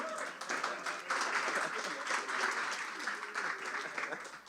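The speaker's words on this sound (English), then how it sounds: "Clap it up for him." An audience at an entrepreneurship talk claps together in a lively, uneven burst of applause, moderately loud and continuing throughout with brief swells, with no voices on top.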